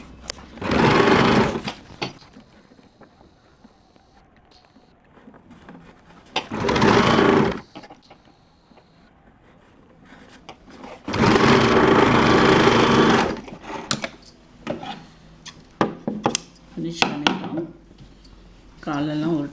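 A sewing machine stitches kids' underwear in three loud runs of rapid, steady whirring and clatter, separated by quieter pauses with some handling noise.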